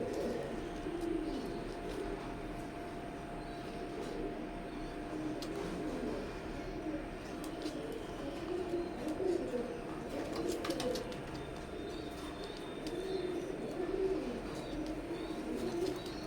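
Imported teddy pigeons of a KTM bloodline, a breeding male and female pair, give soft low repeated coos over steady faint background noise, with no talking.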